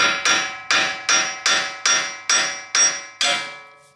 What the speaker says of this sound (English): I'm going to gently tap with a hammer again.